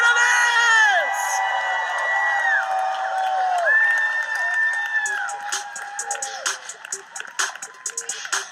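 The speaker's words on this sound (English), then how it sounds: "Give it up and let's hear it for the finalists!" A live audience at a finalists' announcement cheers, whoops and screams loudly, with high-pitched shouts layered over a steady roar. Toward the end the cheering thins into scattered claps and individual yells.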